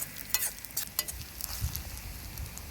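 Grated coconut being stirred in a pan for a Kongu-style village sambar, with soft scraping and light sizzling in irregular bursts, fairly quiet and with no voices.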